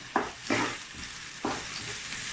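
Ginger, garlic, red chili and lemongrass sautéing in a pan, a steady hiss of frying punctuated by several scraping stirs, close and without talk.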